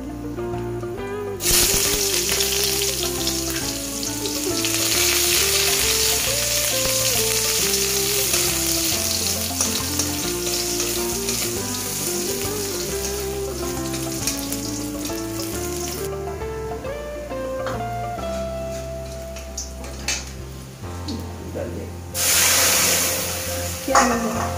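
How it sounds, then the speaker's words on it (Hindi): Panch phoron and onion frying in a little oil for masoor dal tadka, a steady loud sizzle with stirring and scraping in the pan. "ये पंचफोड़न थोड़े से ऑयल में पंचफोड़न डाल दिया। अब थोड़ा सा अनियन,"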